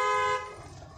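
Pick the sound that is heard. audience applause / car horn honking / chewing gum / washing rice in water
car horn honking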